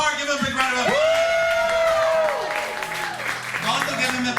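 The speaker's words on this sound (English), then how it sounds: "Give him a big round of applause." A live show audience at a Pride comedy or cabaret event cheers, with loud whoops and hollering voices over a bed of clapping and crowd noise, close and energetic.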